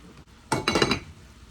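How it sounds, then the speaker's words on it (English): A whisk scrapes and clinks against a pot of creamy grits in a short burst of several quick strokes, close and fairly loud, alone and without talk. "Our grits are looking nice and creamy. I'll continue to whisk these."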